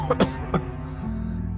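An old man in a cartoon coughs, two or three harsh bursts close together, then a low steady hum continues after the coughing stops.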